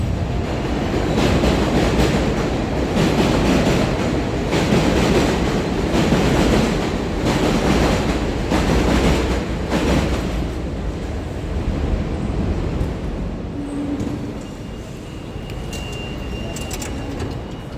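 A New York City subway E train rumbles steadily along the tracks with rhythmic clattering and loud, continuous roaring, easing slightly toward the end.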